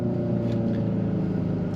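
A steady, low synthetic engine drone from the simulated sound system of a 2025 Hyundai Ioniq 5 N, a continuous rumbling hum over a short stretch with no distinct shift break and no talking.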